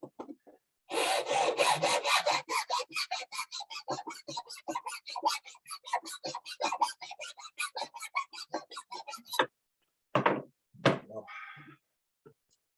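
A hand file works wood while a simple beginner's loom is built, giving a rapid series of close, raspy push strokes in a steady rhythm that pause, then a few separate strokes follow, with no talking.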